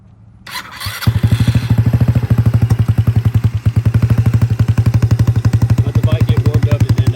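Icebear Maddog scooter fitted with a swapped GY6 150cc engine starts up after a brief clatter and settles into a loud, steady, close idle with a rapid, even putter that runs throughout.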